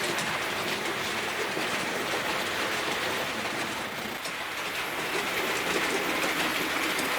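Model railway locomotives pulling Southern carriages around the outer loops of a layout, a steady continuous rolling rumble with a faint clickety-clack of wheels on track, close and unbroken throughout with no talk.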